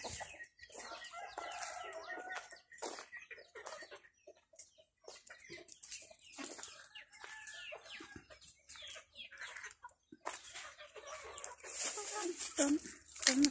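Chickens clucking and a rooster crowing in a rural yard, close and fairly loud bursts of clucks and calls, with a crow rising near the end and people talking in between.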